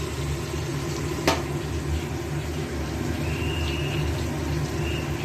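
Fried cauliflower and spices sizzle steadily in a pan for a fish curry, a continuous close hiss with a sharp clink partway through and light stirring.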